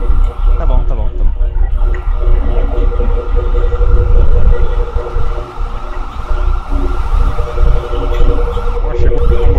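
An ambulance siren arrives in the video game GTA 5, a wailing tone running steadily beneath loud in-game noise and people talking.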